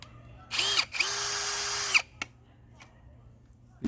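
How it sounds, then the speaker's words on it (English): A drill press drills through a deck railing post with its integrated clamp holding the work: two loud whining bursts of motor and bit, one brief and one about a second long, then a few faint clicks. "I'm gonna use the clamp, integrated clamp and drill press."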